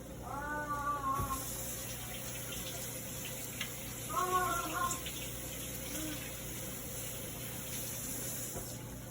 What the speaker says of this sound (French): Voilà, je vais me rincer les mains.